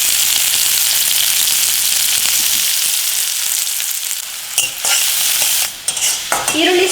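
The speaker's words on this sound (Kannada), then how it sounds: "ಎಣ್ಣೆ ಕಾದ್ಮೇಲೆ ಕಟ್ ಮಾಡಿರೋ ಈರುಳ್ಳಿ ಹಾಕೊಳ್ಳೋಣ" Chopped onions fry in a shallow pool of hot oil in a pan for street-style egg rice, giving a loud, steady, dense sizzle that thins into brief crackles and stirring scrapes near the end, with no talk.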